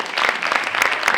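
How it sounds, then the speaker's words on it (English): Audience at an evening church-style global forum gathering clapping together, a dense, steady wash of many hands for about a second, loud and close with no talk over it. "Would you want to give God a clap offering?"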